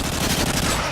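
Rapid automatic gunfire from the video game Call of Duty Modern Warfare crackles in a dense, loud, close burst that lasts about a second.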